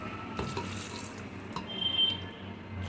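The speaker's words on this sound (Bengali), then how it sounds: "এবার আমি গরম জল দিয়ে দেবো।" Hot water is poured into a simmering Bengali mutton curry in a pot, a soft splashing pour with a few clinks of utensils, close and unaccompanied by speech.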